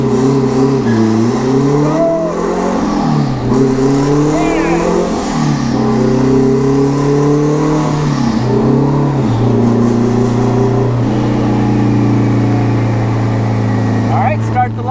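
A K-swapped turbo Honda Civic runs on a dyno, the engine note climbing in repeated rising pulls with a drop between each, then holding a loud steady drone, with a voice talking over it.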